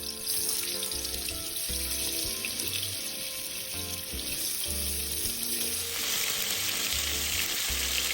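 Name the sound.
dried tofu frying in hot oil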